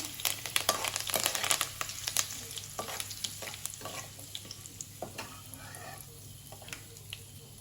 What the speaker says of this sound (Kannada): ಒಗ್ಗರಣೆ ಸಿಡಿತಿದ್ದಾಗೆ ಇದಕ್ಕೆ ಕಟ್ ಮಾಡ್ಕೊಂಡಿರುವಂತಹ ಕರಿಬೇವಿನ ಎಲೆಗಳನ್ನು ಹಾಕ್ಕೊಳ್ತೇನೆ